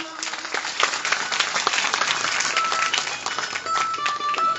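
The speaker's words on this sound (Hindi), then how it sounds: "शास्त्री जी के लिए एक बार जोरदार तालियां।" At a Shiva katha gathering in Haryana, the crowd gives loud applause for the storyteller, dense steady clapping from many hands filling the hall, with a voice speaking over it near the end.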